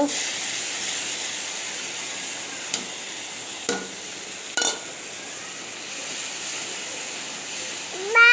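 A fish head and eggplant fry with mustard paste in a pan, giving a steady hiss broken by three sharp metal clinks as the mixture is stirred, without any voices.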